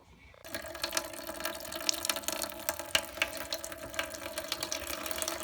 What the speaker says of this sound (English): in the galley now, hot water about to flow